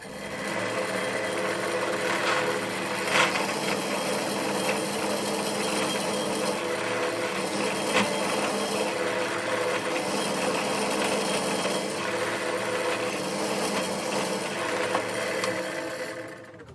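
A steady, loud power-tool whir from drilling into a cocobolo wood turning runs continuously for the whole stretch, close up with no pauses and no speech.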